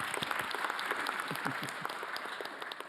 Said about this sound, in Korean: 축하 박수 한번.